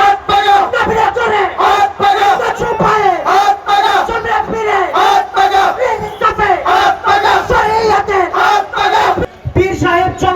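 A large political rally procession of Islami Andolan Bangladesh in Nabinagar, Brahmanbaria, with a crowd chanting slogans loudly in rhythmic call-and-response bursts, close and continuous, voices rising and falling together.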